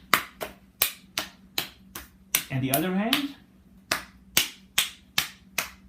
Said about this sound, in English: The next test is just to do the hand clapping